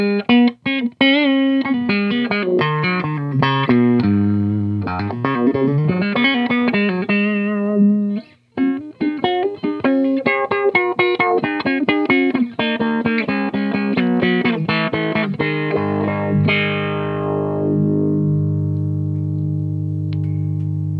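An electric guitar plays through a Big envelope filter pedal, giving sweeping auto-wah-like tones. Loud picked notes and chords shift in timbre, and a final chord rings out and decays.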